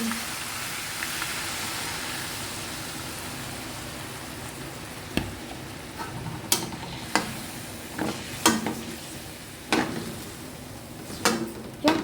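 Pork stir-frying in a pan with oyster sauce and pineapple, a soft continuous sizzle with intermittent sharp scrapes and clacks of a spatula stirring, growing more frequent toward the end.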